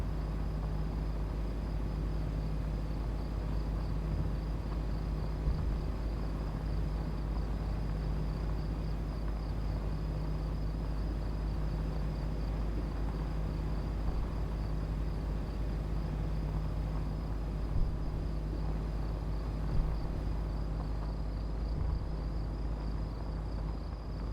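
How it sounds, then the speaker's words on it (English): A steady chorus of crickets chirps continuously at low volume along a rough dirt road in a truck driving game, with a faint constant hum beneath and no one speaking. "All I hear is the crickets."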